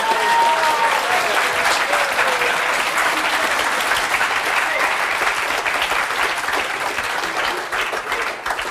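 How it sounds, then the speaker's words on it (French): Sustained applause from a French TV studio audience on a talk show, steady and dense for the whole stretch with a faint voice tone at the very start before settling into even clapping. "on peut les applaudir très fort tous les deux"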